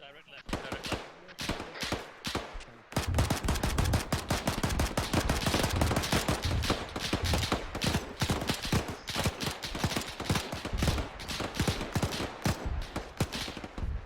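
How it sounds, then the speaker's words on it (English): Dense automatic gunfire rattles nonstop in an Arma 3 infantry firefight, loud bursts of rifle and machine-gun shots overlapping from about three seconds on after a few sparse opening shots, with voices talking over the battle. "Get some shots down over there, mate."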